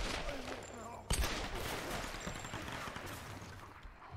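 Muffled gunfire in the Tomb Raider video game, a steady wash of distant shots under a noisy background with one sharper crack partway through.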